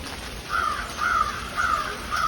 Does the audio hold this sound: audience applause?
no